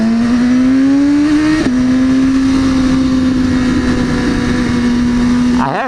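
A blacked-out Lamborghini Aventador supercar passes close by with a loud, steady engine drone that shifts pitch midway and fades out at the end.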